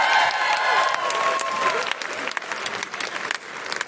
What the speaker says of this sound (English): Big round of applause for Donna, everybody